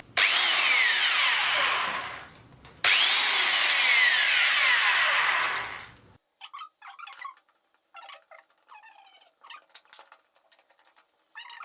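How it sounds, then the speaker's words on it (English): A Bosch GWS 600 angle grinder tested after a carbon brush change whines loudly at full speed, stops briefly and spins down, then runs again before winding down, leaving quiet scattered clicks and handling sounds. "check the operation of the angle grinder with the electrical supply"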